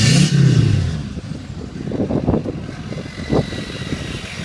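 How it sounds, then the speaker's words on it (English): A 2005 GMC Sierra diesel pickup heard through its exhaust, a deep throaty rumble with a loud burst at the start, then rough idle and two short revs, close by and without talk. "I'm going to step on the exhaust, let you hear it. This thing sounds mean."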